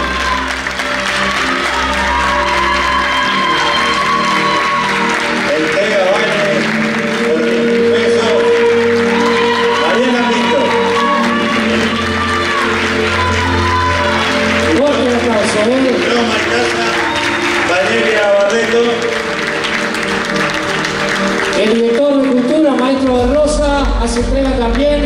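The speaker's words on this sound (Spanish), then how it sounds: "¡Fuerte aplauso!" Applause for a winner at a candombe culture contest award ceremony, a loud continuous wash of crowd noise with music playing and voices mixed in, cheering and shouts rising throughout.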